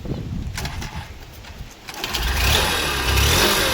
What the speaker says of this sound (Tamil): ஃபுல்லாக இந்த ஆக்சிலேட்டர் வந்து நல்லா நீங்கள் இப்படி முறுக்கணும்.